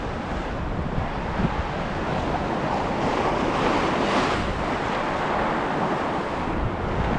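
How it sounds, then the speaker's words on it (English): Ocean waves roll in against the rocky California coast at low tide, a constant loud wash of surf mixed with wind buffeting the microphone, with no voices. "These waves are starting to get pretty big."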